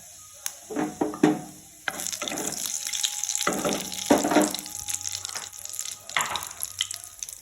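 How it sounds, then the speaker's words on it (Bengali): Cumin seeds and two dried red chillies sizzling in hot oil in a home kitchen pan, with crackling bursts that rise and fall, close and moderately loud, with some clinking and stirring alongside. "তো আমি এখানে তেল গরম করে নিয়েছি এবার আমি এটাতে দেব জিরে জিরে দেব আর দেবো দুটো শুকনো লঙ্কা"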